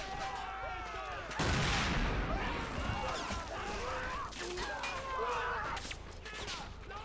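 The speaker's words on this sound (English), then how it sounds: "Firing another round." Heavy booms and rumbling blasts of artillery and white phosphorus rounds in the video game Men of War: Assault Squad 2, defending Tobruk in 1941, with a big hit early and continuous explosive clatter, voices shouting underneath.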